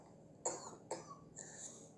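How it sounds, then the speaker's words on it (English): Three dry coughs spaced about half a second apart, close and fairly loud, with a faint rasp trailing off and no talking. "my coughing is getting weird."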